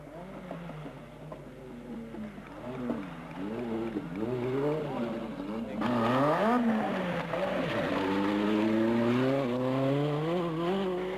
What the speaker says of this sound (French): Alors que Terrier fait rugir férocement la cavalerie de la Porsche